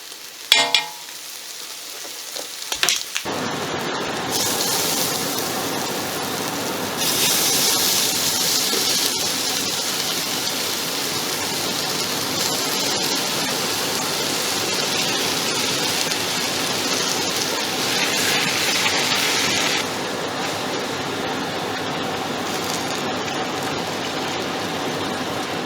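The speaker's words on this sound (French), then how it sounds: "pendant que ça mijote comme demandé" A pot of Louisiana jambalaya, seasoned with cayenne peppers, simmers with a steady bubbling sizzle like rain on a surface that runs unbroken for over twenty seconds after a few brief clatters, with no voices.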